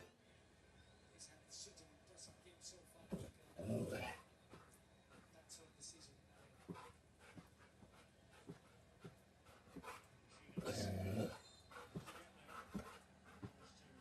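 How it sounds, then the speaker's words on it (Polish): Dogs pant and whimper softly at home in front of a television showing a football match, with a couple of louder yelping bursts over a faint background of TV sound. "Przed telewizorem doskonale mogą bawić się również psy."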